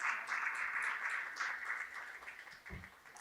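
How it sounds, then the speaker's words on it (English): Audience applause greeting a guest as he walks on stage at a live talk-show event, a steady patter of many hands holding for a few seconds, then a low bump of movement near the end. "Please give him a warm round of applause as he comes on stage."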